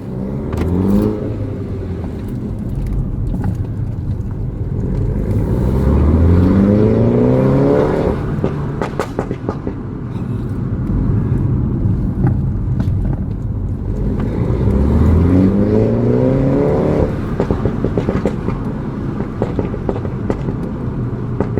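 Mini F56 John Cooper Works with a resonator delete, an automatic in sport mode, driven hard: two loud rising acceleration sweeps from the exhaust with gearshifts between them, heard close from inside the car, no talk.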